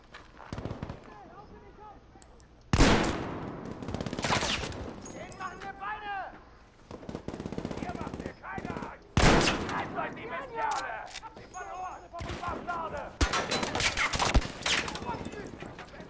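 Gunfire bursts in a shooting video game, loud sharp volleys in short clusters separated by quieter stretches, with voices talking between and over the shots.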